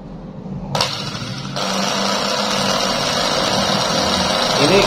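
An angle grinder powered through a homemade dimmer set to low speed switches on and settles into a steady, close, high-pitched motor whine that continues to the end.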